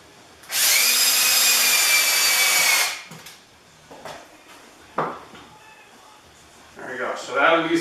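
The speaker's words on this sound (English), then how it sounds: "Drill 2 of the holes out of the 3." Power drill boring holes through wood for a DIY deadlift platform, a loud steady whine lasting about two and a half seconds, followed by quieter knocks and handling clatter.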